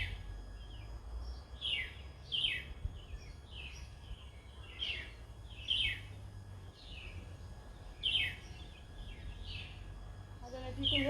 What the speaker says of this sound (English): I don't know if you can hear the birds from here. They're very happy and joyful this morning.